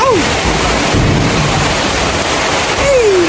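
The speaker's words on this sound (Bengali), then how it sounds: "সকাল সকালে প্রচুর বৃষ্টি হচ্ছে এখানে, প্রচুর বৃষ্টি।" Steady, loud broadband hiss of heavy rain pouring down, continuous throughout, with a couple of brief tonal whistles near the start and end.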